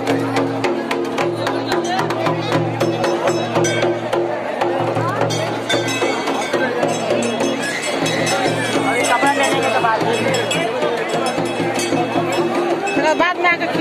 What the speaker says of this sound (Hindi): अभी सीजन नहीं है फिर भी यहाँ पे काफ़ी ज़्यादा भीड़ है गाइज